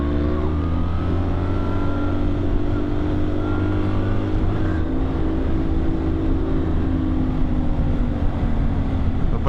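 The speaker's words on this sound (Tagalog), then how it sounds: "Overtake lang muna tayo kasi maingay yung kanyang tambutso." A loud, steady exhaust drone from a vehicle being overtaken on a road in Baguio, with a deep engine hum that holds close and strong throughout.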